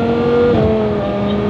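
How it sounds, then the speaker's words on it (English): A Lamborghini Huracán engine with a VF Engineering supercharger hums loudly under load in fifth gear, a thin, steady supercharger whine riding above it, sustained and close. "Now you can hear the little whine a little bit"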